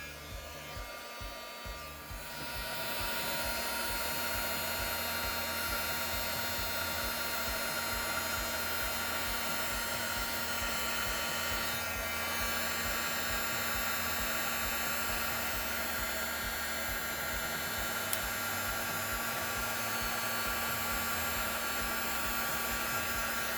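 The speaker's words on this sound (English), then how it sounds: "I'm gonna heat emboss this really quick" A heat embossing tool blows steadily over clear embossing powder on a stamped card, a continuous fan-like whoosh and hum that begins after a brief pause and runs evenly throughout.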